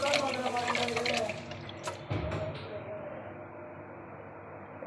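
Ragi grain being washed in water for idli and dosa batter, with sloshing and swishing of liquid that is louder at first, then a steady quieter wash with a few splashes.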